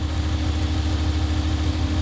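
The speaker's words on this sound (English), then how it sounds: "Now start it up, listen to it. So it sounds like a strong engine." A Dodge engine runs at a steady idle nearby, a constant low rumbling drone that stays even from start to finish.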